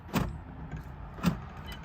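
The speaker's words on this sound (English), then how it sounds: "it locks and unlocks the car." Door locks on a 2008 Mercedes-Benz C300 actuate twice by key fob, each a sharp, close mechanical clunk about a second apart, with quiet handling noise between.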